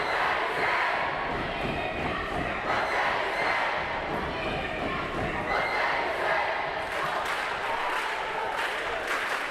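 A student section cheers at a high school volleyball game between Jesup and Wapsie Valley, the crowd roaring loudly and continuously with scattered clapping and shouts throughout.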